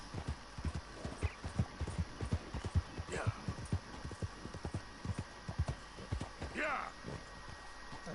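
Horse hooves clip-clop in a steady walking rhythm, close by, with a snort or whinny breaking in now and then over a quiet outdoor background, in the video game Red Dead Redemption 2.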